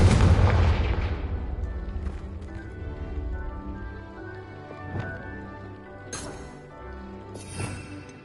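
A Confringo blasting curse goes off in a Harry Potter video game: a big, heavy boom that fades out slowly, followed by several softer thuds and impacts.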